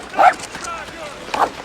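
A dog gives two short, yelping barks about a second apart in a scene from the TV western Deadwood, moderately loud over quiet background sound.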